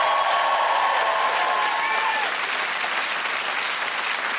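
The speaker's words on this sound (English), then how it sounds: "Let's give them a massive round of applause." A studio audience at a British TV comedy show gives a sustained round of applause, loud and even throughout, with a few brief tonal cheers or whistles early on.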